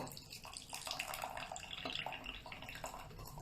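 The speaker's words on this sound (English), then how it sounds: "Look how little water came out of that gaiwan because of how much the leaf itself is taking up space" Water pours out of a porcelain gaiwan while green tea is brewed: a soft, continuous splashing trickle, close and fairly quiet, with faint clinks.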